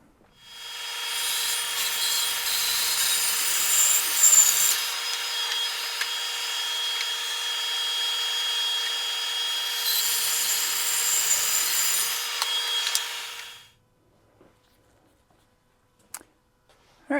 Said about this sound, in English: Headed to the bandsaw.